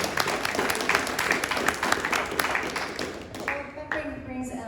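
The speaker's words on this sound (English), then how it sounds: "Let's give them all another round of applause." An audience at a society meeting applauds in a brief burst of dense clapping that fades out after a few seconds into quieter room sound.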